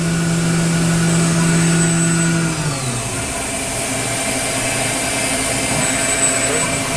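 Star SR-20RIII CNC Swiss lathe spindle spinning at high speed, heard close to the guide bushing: a steady loud machine whine with tonal hum that drops in pitch partway through, then continues as a constant drone.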